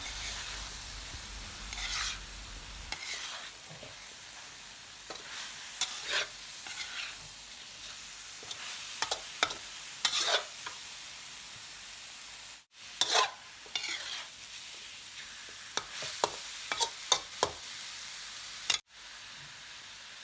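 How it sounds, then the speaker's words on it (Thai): Catfish stir-fried with fingerroot and three-colour chillies for a jungle-style curry: steady scraping stirs and clatter of the spatula over a continuous sizzle, with a couple of sharp knocks against the pan. "ตามด้วยกระชาย ใส่พริกสามสี แล้วผัดให้ทุกอย่างเข้ากันค่ะ"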